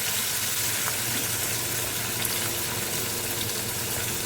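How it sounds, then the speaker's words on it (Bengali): Shrimp fry in mustard oil in a wok, giving off a steady, even sizzle that stays close and constant with no talking over it. "আর এই চিংড়ি মাছগুলোকে দিয়ে দিলাম। চিংড়ি মাছগুলোকে সুন্দর করে ভাজা করে নেব।"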